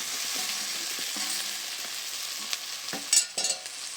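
Fried banana 'fish' pieces being stirred into a sizzling spice masala, a steady close frying hiss with scraping stirring strokes and a few louder clatters toward the end, no talking.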